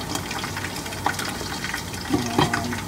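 Filipino squash vegetable soup with shrimp boiling in a pot, giving a steady watery bubbling with scattered pops and a few louder gurgles near the end, with no talking.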